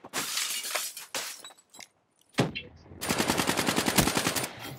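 Call of Duty: Black Ops 3 gunfire: sharp bursts with breaking-glass crashes, a short silent gap, then a loud sustained rapid machine-gun stream of evenly spaced shots.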